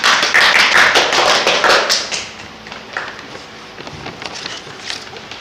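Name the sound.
audience clapping hands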